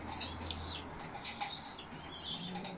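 Pigeons flap their wings in quick flurries and give soft chirps during evening feeding, fairly faint against a low background hum.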